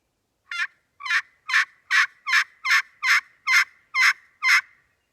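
A friction pot call played by hand gives ten evenly spaced turkey yelps, close and clear, in a steady rhythm with no background noise.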